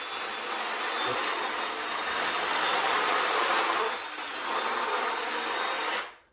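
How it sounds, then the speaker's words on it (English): Cut pipe piece for a diesel-electric personal submarine being deburred by a power tool, a loud continuous grinding whir for about six seconds that dips briefly before stopping abruptly. "So this piece here I already cut, so all I have to do is deburr it"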